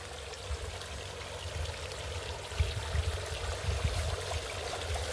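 Steady pouring water from a pump-fed waterfall that aerates a freshwater shrimp pond, a continuous close splashing wash with no voices.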